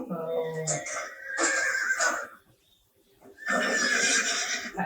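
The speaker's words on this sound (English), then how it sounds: "That new horse." A new horse named Champ neighs and whinnies loudly nearby in two long shrill bursts separated by a short pause, with people talking around it.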